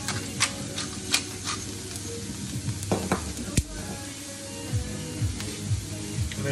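Meat sizzles on a grill with a steady crackling hiss, broken by occasional sharper pops and scraping clicks, close and moderately loud with no talk.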